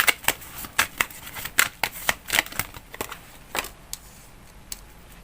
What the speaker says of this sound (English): let's continue shuffling.